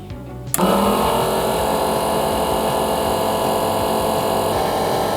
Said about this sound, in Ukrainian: Одразу цікаво перевірити, наскільки сильно працює вакууматор.